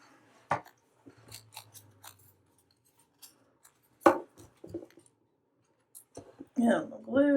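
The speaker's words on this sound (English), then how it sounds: "I'm going to cut a little bit more." Scissors snip paper while junk journal clusters of Halloween and fall ephemera are assembled, producing a few short crisp cuts amid soft handling clicks and rustles, close and clear, with a voice speaking briefly near the end.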